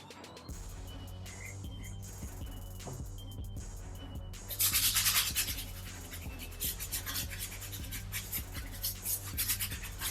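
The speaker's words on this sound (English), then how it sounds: "I'm going to go ahead and use the medium brush on the midsoles" A medium-bristle brush scrubs the midsoles of Olympic Air Jordan 7 sneakers during a restoration, a steady rasping scrub under background music that grows louder and busier after about four seconds.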